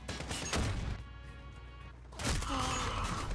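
A grenade blows up in Call of Duty Modern Warfare, a heavy booming blast with a dense rumble lasting about a second. A second burst of explosive noise follows after a short lull. The sound is loud and close.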